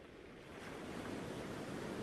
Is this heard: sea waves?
yes